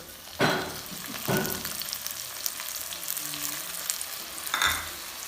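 Mint and coriander paste frying in a pan, a low steady sizzle broken by three scraping strokes of stirring, with faint clinks in between.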